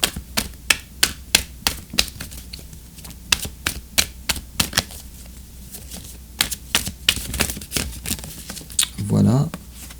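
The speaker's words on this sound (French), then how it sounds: "on va tirer une carte d'oracle pour la fin de ton tirage" Oracle cards being shuffled and drawn: a quick series of crisp card slaps and snaps in irregular bursts, close and fairly loud, ending in a short rustling sweep.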